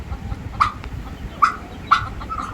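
Poultry on a farm in Nigeria, likely guinea fowl, give three sharp, short calls at steady intervals, fairly close, over a low rumbling background with no one talking.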